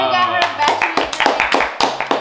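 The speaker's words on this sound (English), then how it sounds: "Clap it up." Several people clap hands in quick, uneven bursts, loud and close, with a voice talking over the applause.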